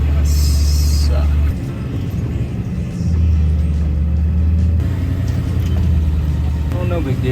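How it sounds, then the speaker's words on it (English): A shuttle bus backs up along a ranch driveway, its engine rumbling continuously and close by, swelling in places, with people talking over the noise. "Oh, no big deal, just driving in reverse."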